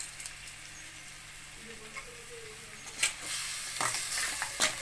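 Crab pieces stirred into spicy frying masala in a pan, a steady soft sizzle with scraping stir strokes and a few louder clatters near the end.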